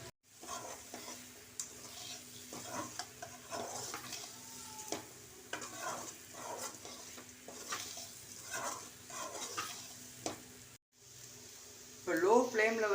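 Boiled raw banana pieces for a curry sauté in a pan, giving a soft, steady sizzle. Repeated scraping and stirring strokes run throughout, and a voice speaks briefly near the end.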